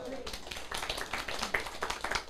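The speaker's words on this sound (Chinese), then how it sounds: "恁拍手是啥物意思？" An audience at a political lecture clapping, a loose burst of many hands applauding at moderate distance, with a voice talking over the claps at the start.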